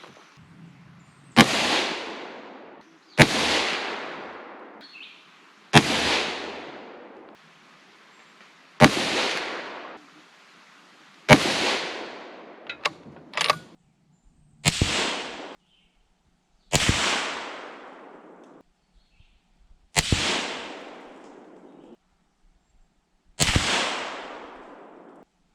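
Rifle shots from a Remington Model 700 in 6.5x55 Swede firing 139 grain bullets from a lead sled, nine sharp loud cracks spaced a few seconds apart, each with a brief decaying echo.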